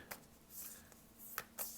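A deck of oracle cards is shuffled by hand, making soft, quiet riffling and flicking sounds in a few brief bursts, close by and faint.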